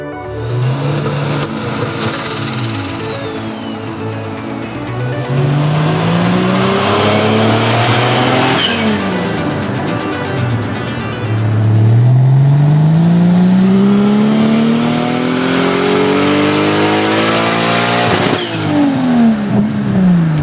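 A turbocharged car engine on a dyno during a horsepower test, loud and close, revving up in repeated rising sweeps that climb and fall, with a whining turbo tone over each pull.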